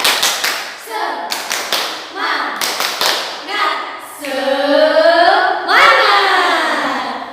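Students clap together in the rhythmic class cheer called tepuk semangat, with sharp bursts of hand claps in a patterned beat, while voices chant and call out over the clapping in a classroom.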